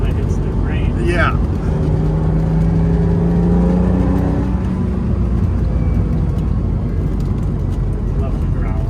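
Ferrari Testarossa, a small red sports car, growling steadily while being driven, a continuous low engine drone with a rising tone midway, with a person talking over it.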